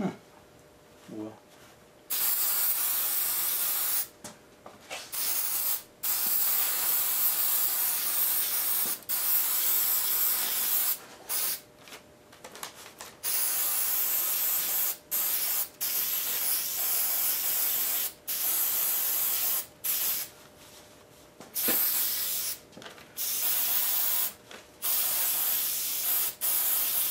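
Spray adhesive hisses from an aerosol can nozzle during work on an F100 seat bottom, in repeated bursts of several seconds with brief pauses between them, close and fairly loud, the last spurts sputtering as the can runs empty.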